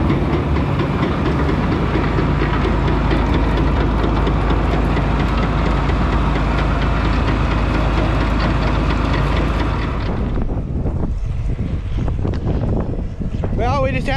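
Tractor-driven snowblower on a PTO shaft runs with a loud, steady mechanical roar and clatter close by for about ten seconds, then cuts off, leaving scattered knocks and faint rustling.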